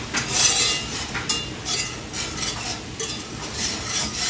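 Food is broken up and stirred in a well-seasoned cast iron skillet, a close, busy scraping and scuffing of a utensil over the pan with a light sizzle underneath, continuous and without voices.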